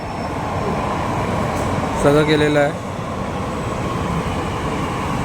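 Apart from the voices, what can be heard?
underground metro train arriving at station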